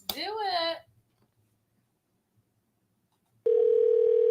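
A phone call is placed and begins ringing: after a brief spoken word and a stretch of near silence, a steady electronic tone starts abruptly and holds, loud and close.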